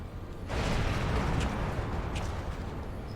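Cannon fire in a Final Fantasy XIV cutscene, an airship's guns returning fire against Magitech armor: a sustained, dense rumble of blasts and booms with sharper bursts layered on top, loud and continuous after a brief quiet start.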